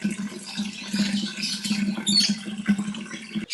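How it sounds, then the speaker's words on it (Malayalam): Water pours into two bowls beside a backyard pond, a continuous close splashing trickle with a low steady hum underneath and small fluctuations throughout. "ഈ രണ്ട് ബൗളിനകത്തും നിറച്ച് വെള്ളം പിടിക്കുകയാണ്"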